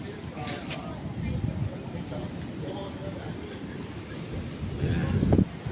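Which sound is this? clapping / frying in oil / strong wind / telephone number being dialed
strong wind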